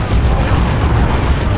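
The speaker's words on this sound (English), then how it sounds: "And you want the artillery strike." Artillery strike explosion in Warhammer 40,000: Dawn of War II, a heavy, rumbling blast that stays loud and broad throughout, with a voice talking over it.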